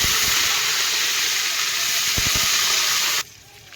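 Mustard seeds and cumin sizzle in hot oil for khichdi, a loud, steady, dense hiss that runs unbroken for about three seconds and then cuts off sharply to near quiet.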